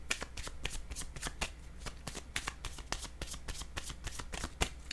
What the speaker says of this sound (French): Je pourrais bien prendre une autre carte.